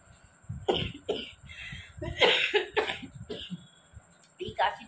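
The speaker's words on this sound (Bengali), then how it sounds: "এই কাশিটা মানে আমার প্রায় 1 বছর" A persistent, harsh cough repeats in several close bursts, with throat clearing between fits, then a short pause before one more cough near the end.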